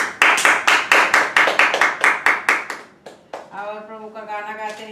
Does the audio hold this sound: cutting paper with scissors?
no